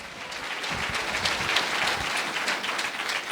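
A church congregation bursts into loud, sustained applause, dense continuous clapping filling the room evenly throughout, with no voices over it.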